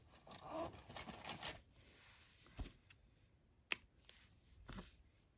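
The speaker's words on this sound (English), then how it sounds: "then I'll grab the scissors and cut off the yarn" Scissors snip through cotton yarn during a crochet project, making a few faint, sharp clicks spaced out across a quiet room, with soft handling rustle before them.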